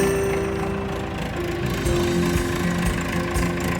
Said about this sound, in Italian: Però ho sentito il trattore, forse sta arrivando.